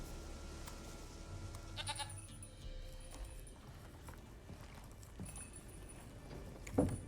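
Goats bleating in The Witcher 3, faint calls among soft ambient farm noise and light clip-clop hooves, with a sharper bleat near the end.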